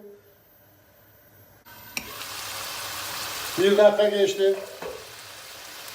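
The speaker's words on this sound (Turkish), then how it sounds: "Yağın içinde ortalama bir dakika soğanı bir kavuracağım." Onions sizzle and crackle in hot oil, a steady frying hiss that swells briefly louder, with a voice speaking over it.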